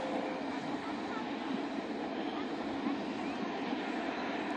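Steam train crossing the Glenfinnan Viaduct in Scotland, with a steady distant rumble of rolling carriages in the open air and faint voices underneath.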